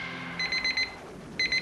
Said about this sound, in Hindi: ये 3 बजे अलार्म बजने का मतलब आप रोज रोज 3 बजे उठते हैं?